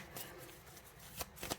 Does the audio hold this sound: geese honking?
no